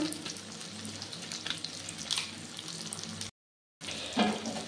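Ground coriander and red chili powder frying in a pan for soybean dopiyaza, a soft steady sizzle with faint stirring scrapes, cut by a brief silent gap before the sizzle resumes.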